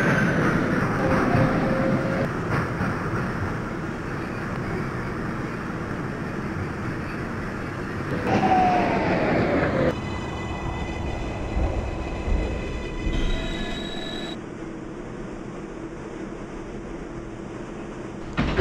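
A New York City 6 local subway train running through Manhattan toward Brooklyn Bridge, with a steady rumbling roar, wheel and rail noise, screeching brake tones and shifting motor whines, heard from inside the car.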